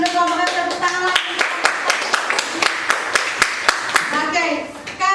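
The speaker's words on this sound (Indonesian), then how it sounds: "silakan dulu kelompok 1 tepuk tangan lagi." A school class clapping hands together in a classroom, sharp distinct claps in a fairly regular rhythm, loud and near, with children's voices underneath.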